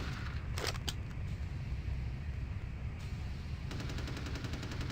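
Gunfire in Vampire: The Masquerade – Bloodlines, with a couple of sharp shots near the start, then a quieter stretch and a rapid run of repeated cracks toward the end over a low game background.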